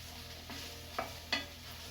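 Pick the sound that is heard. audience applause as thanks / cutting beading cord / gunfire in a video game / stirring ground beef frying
stirring ground beef frying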